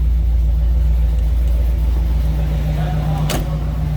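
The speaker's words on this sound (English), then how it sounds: "A little rumble coming out of that Chevy engine." A 1946 Chevrolet pickup street rod's small-block Chevy V8 idles with a steady low rumble, continuous and fairly close, with one brief sharp knock or click near the end.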